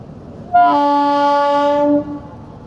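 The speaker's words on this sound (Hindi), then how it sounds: "शायद एक और ट्रेन आ रहा है," A loud, sustained Indian Railways train horn sounds for about a second and a half over the low rumble of a passing train, then cuts off.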